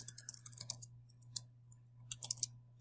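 Quiet typing on a computer keyboard in Microsoft Word comes in short bursts of light clicks separated by a pause, over a low steady hum.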